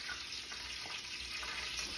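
A bright, steady sizzle of ice cream nuggets frying in a hot pan, crackling evenly for a couple of seconds with no voices.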